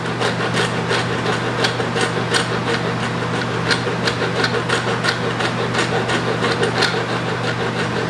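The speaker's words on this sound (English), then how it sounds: "This thing is going to leave some pretty deep scratches, this Dragon Rasp." A Dragon Rasp shaping the wooden neck of an acoustic guitar near its binding, a steady, close scraping with repeated strokes back and forth over a constant low hum.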